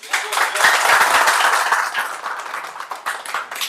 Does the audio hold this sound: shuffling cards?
no